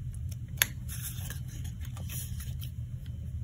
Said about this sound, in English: now I can come back in with my scissors, and I'm going to look for this part here, and I'm going to just cut straight up to that point